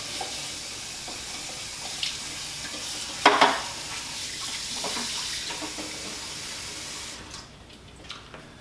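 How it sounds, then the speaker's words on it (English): Cold tap water rushes into a pot of freshly boiled eggs to flush and cool them, a steady faint splashing hiss with a brief louder clatter midway before the flow stops near the end. "here's where we have to quickly flush it with cold water"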